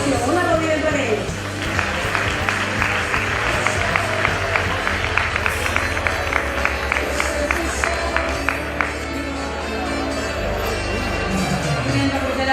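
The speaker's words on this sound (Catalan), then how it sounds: "Un aplaudiment per ells." An audience at a Catalan football and futsal referees' awards night in 2015 applauds the honoured referees, a crowd's scattered clapping rising over steady background music and then settling back under it.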